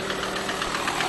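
Steady mechanical knocking from a Volkswagen Transporter AXD diesel engine at idle, a fast rhythmic tapping over a continuous engine rumble, heard up close without talk. The engine is worn and knocks heavily.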